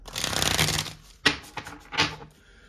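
Tarot cards riffle in a long rapid flutter, followed by two shorter snapping bursts as the deck is squared and shuffled again, close and crisp.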